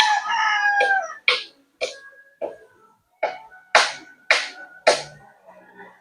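Gamecocks raised for fighting crow again and again, a long opening crow followed by about eight sharp, separate calls at a steady pace, close and loud with no talking.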